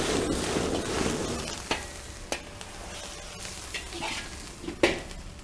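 Peas stir-fried in a wok with a steady sizzle, punctuated by a few sharp clicks of a spatula or ladle against the pan.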